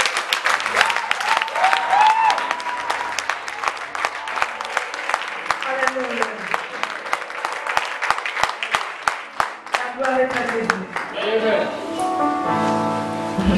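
A church congregation applauding in praise, sustained dense clapping with voices and singing mixed in throughout.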